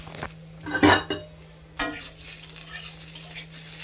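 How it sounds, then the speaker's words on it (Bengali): Carrot, spiny gourd and ivy gourd fry in a pan, a soft sizzle under a constant low hum, broken by two bursts of spatula scraping and clinking against the metal. "আর এটা হচ্ছে গাজর, কাঁকরোল আর কুঁদরি ভাজা হচ্ছে।"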